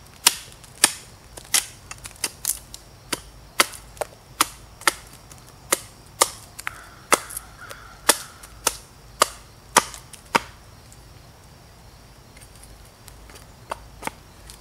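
A Hans Karlsson Slöjd carving axe chops into a wooden spoon blank with crisp, close strikes in a steady, quick rhythm. About seventeen blows land over ten seconds, then a pause before two more.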